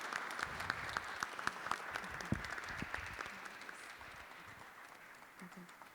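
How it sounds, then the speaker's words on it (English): An audience applauds after a live spoken-word and music performance, a steady wash of many hands clapping at moderate distance, tapering slightly toward the end. "Can we give her one more round of applause?"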